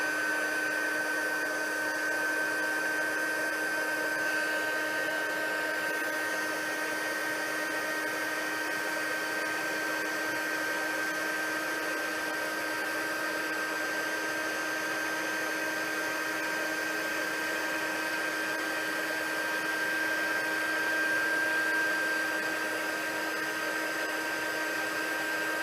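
A heat tool blows hot air over a paper shaker card in a steady, loud, continuous whoosh with a constant whine that runs unbroken throughout.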